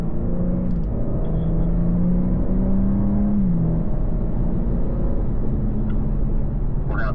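A BMW on a race track accelerates hard out of a corner, its engine a steady, close drone whose tone climbs and then shifts, with road rumble beneath and no voices.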